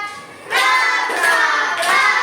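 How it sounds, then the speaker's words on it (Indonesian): A class claps together in a classroom, sharp bursts of many hands in a quick rhythmic pattern, loud and close with no talking over it. "Ayo tepuk hebat dulu untuk semua."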